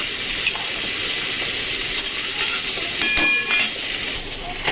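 Snake gourd frying in a pan, a loud close steady hiss and sizzle with brief scraping stirs, continuous with no pauses.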